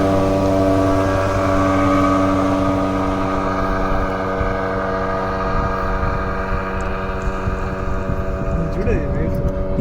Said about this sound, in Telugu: మధ్యలో ఈ స్పీడ్ బోట్ అయితే వెళ్తూ ఉంది.